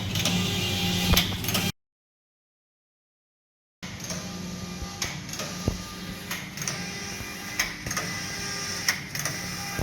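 A collar knitting machine runs with a steady mechanical rattle and regular ticking clacks of the carriage moving across the needles, close and continuous, broken by a brief gap of silence.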